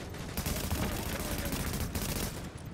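Rapid bursts of automatic gunfire crackle continuously in a shooter game set in The Division, fairly faint and dense, with overlapping shots and no clear pauses.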